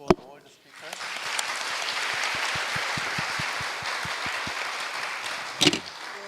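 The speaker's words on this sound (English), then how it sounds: "can you give a round of applause?" A forum audience applauds at the close of a session. The clapping swells in after a brief sound at the start, holds as a steady wash with some rhythmic claps standing out, then fades with a short burst of noise near the end.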